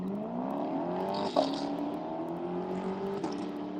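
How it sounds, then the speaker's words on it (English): Distant Corvette race cars drone past with a steady engine roar, a sharp clack midway, fairly faint with no clear voices. "Hopefully y'all can hear the roar of these cars as they pass by."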